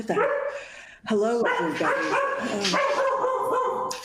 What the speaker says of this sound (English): apologies for my protector dog